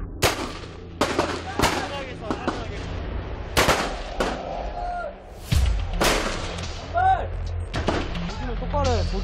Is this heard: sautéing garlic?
no